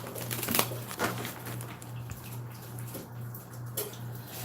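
Tarot cards being shuffled by hand, a soft papery riffle and flutter of repeated light clicks and shuffles, close and quiet over a steady low electrical hum, with no talking.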